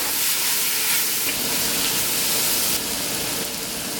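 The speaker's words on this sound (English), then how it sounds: "Now I'm going to put my beef in, mix that around." Beef frying with curry powder in a pot gives a loud, steady, close sizzle that hisses evenly throughout, with no voices over it.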